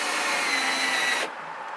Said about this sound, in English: I'm taking my drill, and I'm actually just impacting these in here.